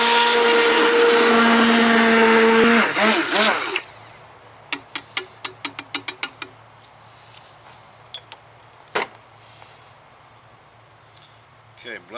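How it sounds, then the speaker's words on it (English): An immersion blender whirs loudly as it purées super-hot chilies and mangos in a pot for about three seconds, then stops, followed by a run of sharp knocks and taps. "I'm just using an immersion blender."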